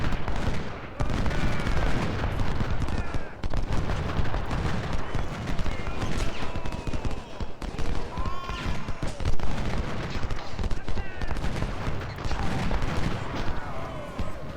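Musket and cannon fire in the Civil War strategy game Ultimate General: Civil War at First Bull Run, a continuous, loud battle din of overlapping volleys and crackling shots with no letup.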